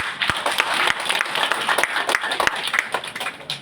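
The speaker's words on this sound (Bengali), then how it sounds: "সবার একটা করতালি দিবেন বলে" An audience gives a short burst of applause at a commemorative gathering for freedom fighters' families. The crowd claps in a dense, brisk patter at moderate volume that holds steady for a few seconds.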